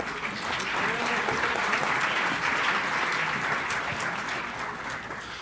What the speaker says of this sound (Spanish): Un fuerte aplauso a nuestros ponentes de esta mesa.